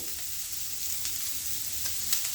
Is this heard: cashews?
yes